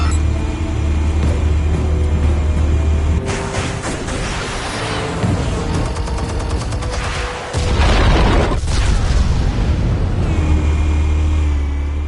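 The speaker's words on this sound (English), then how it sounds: "Explosives armed. Fire when ready." Explosives detonating in the video game Batman: The Telltale Series, heavy booms bursting out over a loud, rumbling game soundtrack, with a couple of broad blasts in the middle of the stretch.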